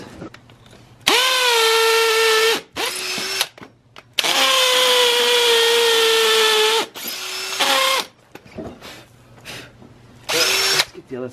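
Cordless power drill boring into wood in cold weather on a barn build, several long high-pitched whining runs with spin-up and shorter bursts between pauses, loud and close.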